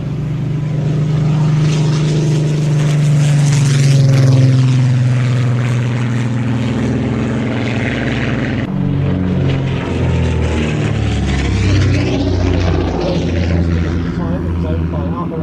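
A vintage Comet propeller aircraft performs at an airshow, its engine a loud, steady drone that shifts in pitch as it passes, with a commentator talking over it.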